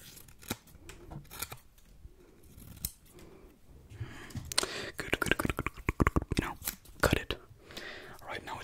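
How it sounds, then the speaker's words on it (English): Scissors snip through folded material in a close, quiet room, with sparse crisp cuts at first and then a rapid run of snips, under soft whispering. "just fold it in half, and then just cut it"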